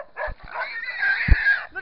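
Dog in boar and stag hunting training yelping and whining close by, several sharp yips and strained cries amid scuffling, with a pig-like grunt mixed in.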